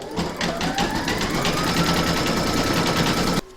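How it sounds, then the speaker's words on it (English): Fast, regular mechanical chattering of an embroidery machine stitching a round through batting in a hoop for a Christmas pudding ornament, continuous and close, stopping abruptly at the end. "Pop your hoop back into your machine and stitch round number 2 to secure it."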